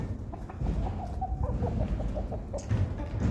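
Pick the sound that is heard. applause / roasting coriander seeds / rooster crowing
rooster crowing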